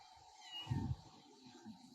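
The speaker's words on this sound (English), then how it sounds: "We got a kitten problem." A kitten meows once, close and clear, with a few faint softer mews around it and no talking.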